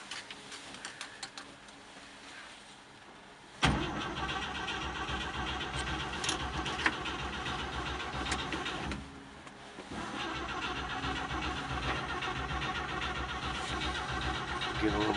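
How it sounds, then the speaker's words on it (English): A 1951 Chevrolet factory flatbed pickup cranks over with choke on a cold 42-degree day, then catches at once and settles into a steady, close idle; the revs surge briefly near the end before the motor drops back to a running idle. "Let's start this thing."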